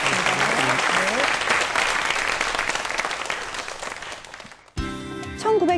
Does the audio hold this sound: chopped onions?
no